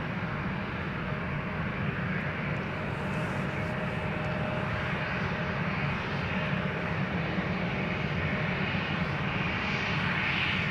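A KLM Boeing 737-800 jet departs Amsterdam Schiphol with a steady, broad engine roar that holds at a constant level throughout, heard from a distance with no voices.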